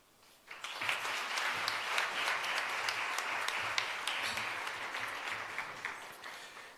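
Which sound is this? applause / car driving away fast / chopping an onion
applause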